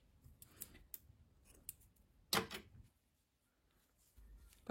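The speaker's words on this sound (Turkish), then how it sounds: "Yeşil renkli ipliği kesiyorum." Scissors cutting green yarn during crochet work, a few faint snips and clicks followed by one louder crisp cut, close and quiet in a still room.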